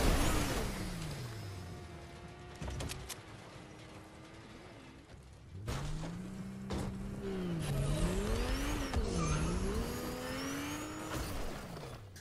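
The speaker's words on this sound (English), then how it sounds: "Alright, now I gotta destroy 25 things with the car." Car engine revving and changing pitch while driving through a video game world, with loud crashes and clattering impacts as objects are smashed; continuous, fairly close, no talk.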